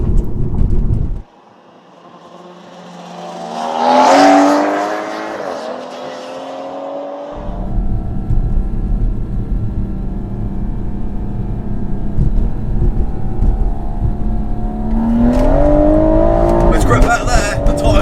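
A 50BHP 125cc go-kart races a 460BHP 3-litre BMW M140i, the engines roaring loudly and close with repeated rising revs that climb in pitch, ease off, then build again.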